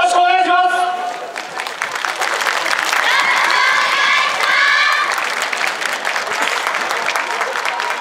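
Loud applause and cheering rise from a crowd watching a yosakoi dance club performance, with a few voices ringing out at the start before dense, continuous clapping carries on with bursts of shouting through the middle.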